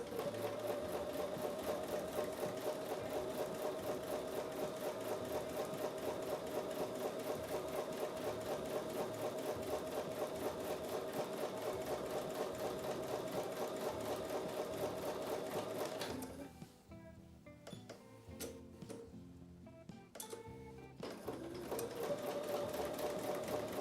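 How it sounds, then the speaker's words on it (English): Sewing machine stitching a quarter-inch seam on quilt block pieces, running in a steady, fast, continuous whir for about sixteen seconds, then slowing into uneven stops and restarts before picking up speed again, close and alone. "I'm going to take those to the sewing machine and sew a 1/4 inch seam on both"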